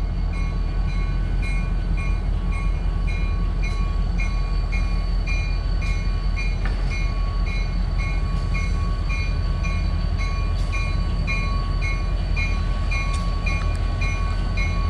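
A Cuyahoga Valley Scenic Railroad train departing Akron North Side Station, a loud continuous rumble of rolling cars with steady wheel noise and faint squealing tones, close by throughout.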